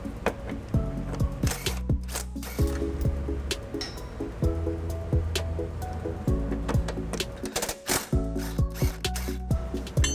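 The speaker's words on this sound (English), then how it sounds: "I'm going to be using a 17mm socket to remove this bolt and that bolt there" A 17mm socket on a ratchet works loose the tow hook bolts of a 2011 Toyota RAV4, with repeated clicking and metallic clatter at close range, its rhythm broken by short pauses.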